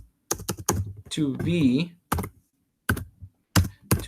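Bursts of quick keyboard typing on a computer, short clustered clicks separated by pauses, with a voice speaking between and over them.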